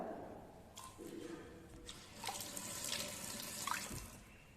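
Water poured from a faucet or container into magnesium oxide ash during a school chemistry experiment, a soft continuous trickle with faint splashes and drips, quiet and close.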